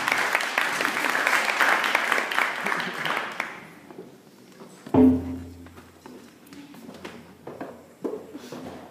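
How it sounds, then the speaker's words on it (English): Guests at a sweet sixteen party applaud, a dense burst of clapping that tapers off after a few seconds, followed by a loud thump and scattered quieter taps and room noise. "I'd like for you all to put your hands together for Warren Fisher."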